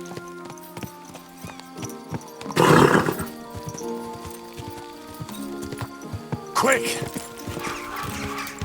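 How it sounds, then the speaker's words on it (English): Horse hooves clop in a steady rhythm with two loud whinnies rising over them, and a voice calls out briefly, in the video game Kingdom Come: Deliverance II. "Easy, good horse."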